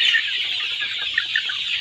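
Broiler chickens about forty-one days old, kept in a farm shed in winter at dusk, cluck and chatter together in a dense, continuous flock murmur with occasional sharper calls, near and fairly loud, with no talking.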